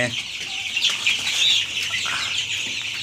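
A brood of 16-day-old Color Bird chicks chirps nonstop, a dense, high-pitched, close-up cheeping that carries evenly through the short stretch with no voices over it.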